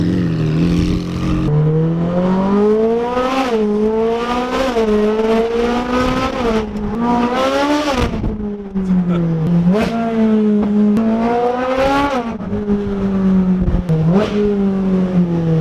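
A Ferrari 458 Speciale engine with straight pipes screams through repeated rising and falling revs, loud and raw with a harsh exhaust snarl, close by.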